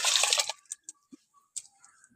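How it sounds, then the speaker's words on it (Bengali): Rice grains being washed in a pot of water for a Bengali prawn bhapa meal: a brief burst of sloshing and swishing, then scattered soft drips and splashes, close and quiet with no talk. "ওর মধ্যে এখন চালটা ভালো করে ধুয়ে দিয়ে দিচ্ছি।"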